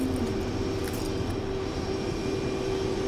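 A jet fighter in Ace Combat Assault Horizon taxis toward the runway, its engines giving a steady, loud whine and rumble that holds evenly throughout with no talk.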